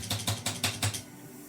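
Several sharp typewriter keystrokes in quick succession, loud and close, each with a bright metallic snap, followed by a short quiet stretch.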